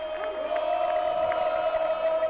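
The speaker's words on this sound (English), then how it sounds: "the boo chants now turn into applause for him" Crowd at a college baseball game between Virginia Tech and ECU, cheering and clapping after a base hit, with a steady roar of many voices at a distance and a sustained whistle-like tone.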